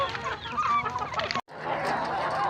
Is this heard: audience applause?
no